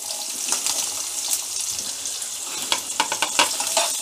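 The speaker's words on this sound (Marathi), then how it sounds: "आता मी कांदा टाकते याच्यात।" Onion tipped into a hot pan with garlic and green chili crackles and sizzles in a bright, steady hiss, with a few sharper pops and spatters near the end.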